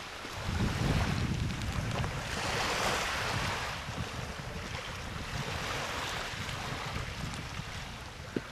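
Sea waves wash onto a beach on Kalymnos where women are swimming. The surf swells and recedes in soft, rushing surges, with some wind buffeting the microphone and no voices.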